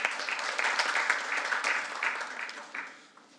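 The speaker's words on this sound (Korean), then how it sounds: "우리 발표까지 진행을 수고해 주신 신영란 교수님께 박수 한번 부탁드리겠습니다." Seminar audience applauding a professor at a shipping and shipbuilding strategy conference, a fairly faint, even patter of many hands that fades toward the end.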